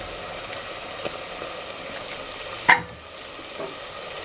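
Onions and green chillies sizzle in a pan with ginger garlic paste and turmeric for a fish curry base, a steady close frying hiss with one sharp clack of a spoon partway through.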